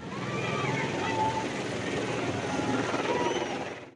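A hired helicopter from Bengaluru, carrying a political leader, flies overhead with a steady, loud rotor and engine drone that holds for the whole stretch, while faint voices sit underneath.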